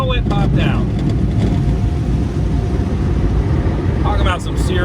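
Powerful car wash air blowers roar steadily and loudly while drying a truck, a dense continuous rush of wind with voices breaking in briefly near the start and end.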